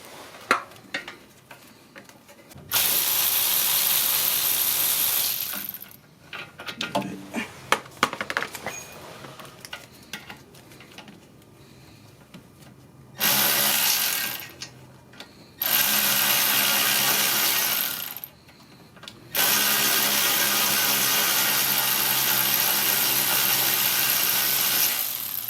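Milwaukee power tool working on a rear brake caliper of a 2020 Mitsubishi Outlander with electronic parking brake, loud whirring bursts of several seconds each separated by quieter clicking and handling noises.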